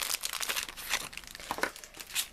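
Packaged pastel pink Padico sauce for a polymer clay kit being unwrapped, with close, continuous crinkling and crackling of plastic wrapping in quick irregular bursts and no talking.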